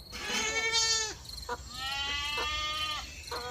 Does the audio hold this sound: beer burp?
no